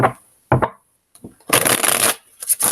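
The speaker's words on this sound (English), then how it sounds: "This deck recently has it gets shuffled a little bit, and then it's done getting shuffled." A tarot card deck is shuffled by hand in quick riffling bursts separated by short pauses, close and crisp with a longer continuous shuffle in the middle.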